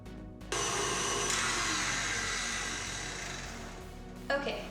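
An electric mixer beating salted caramel cookie dough kicks on abruptly with a steady, loud motor whir, holds for several seconds with a slight drop in intensity, then cuts off.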